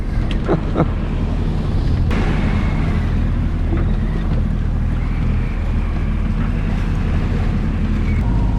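A sailboat's engine drones low and steady beneath loud wind and sloshing waves in a rolling sea, with occasional knocks and creaks from the rolling boat.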